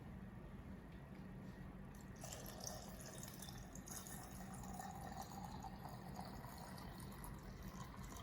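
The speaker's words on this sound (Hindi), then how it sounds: "तो अभी मैं इसमें पानी डालती हूँ।" Water poured from a container into potted plant cuttings, a steady soft trickling and splashing that runs throughout at low volume, with no one talking.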